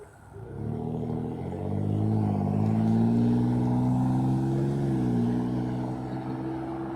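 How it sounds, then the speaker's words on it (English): A car approaches a cyclist on a morning greenway ride in Lafayette, its engine hum rising from quiet to a steady, moderately close drone before easing slightly as it passes. "There's a car coming."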